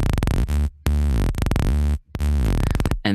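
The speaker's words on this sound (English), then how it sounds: "It's a saw wave that pitches down and pitches up. It sounds like this." A synth saw wave in Ableton Live sweeps down and back up in pitch, heard as loud buzzing tones in repeated bursts separated by brief gaps, alone with no voice.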